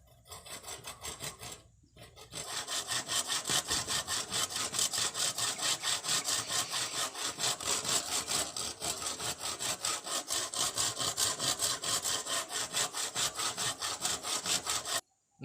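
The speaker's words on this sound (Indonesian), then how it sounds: "setelah kita menggaris si bambu ini, kita akan menggergajinya ya teman-teman." A hand saw cuts through bamboo in fast, even back-and-forth strokes, rasping loud and close after a short hesitant start and stopping abruptly at the end.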